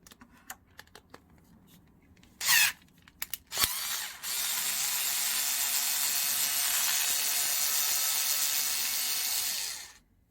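Small screw being unscrewed on a Traxxas Maxx RC car body: a few faint clicks and taps, then a sustained, fairly loud whirring of a driver running for about six seconds before stopping.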